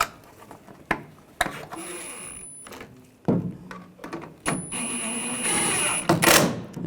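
Ratcheting clicks and short mechanical bursts while snugging tail light screws on a 2014-2018 GMC Sierra 1500, coming in several separate uneven spurts with handling noises between them.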